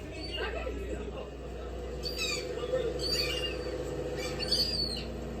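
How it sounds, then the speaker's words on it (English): Seagulls being fed by hand give repeated sharp squawks and cries close by, while people talk and laugh over them. "They not pigeons, they seagulls"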